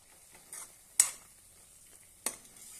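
A ladle stirring sizzling methi pithla, a spiced gram-flour dish with fenugreek leaves, in a pan: a soft steady sizzle runs throughout, broken by a few sharp scraping strokes of the ladle.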